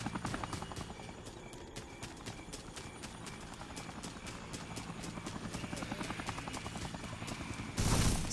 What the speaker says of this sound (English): Is the helicopter back?